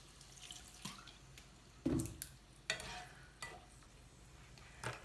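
Beef frying in a pan for Korean-style kuksi noodles as soy sauce goes in: quiet, scattered drips, light stirring clatter and soft spatters, with a few sharper bursts over a low background, and no voices.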